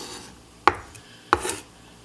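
Knife chopping an onion on a cutting board, two separate sharp cuts about half a second apart, each a crisp thud with a brief scraping tail, close and clear.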